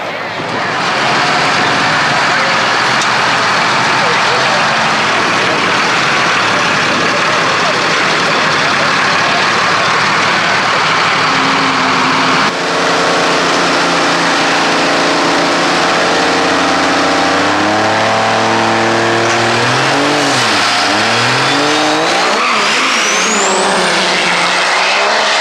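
Trucks race side by side at an East vs West Cash Bash drag event in 2021, engines roaring loud and constant, then revving and shifting in rising and falling sweeps near the end.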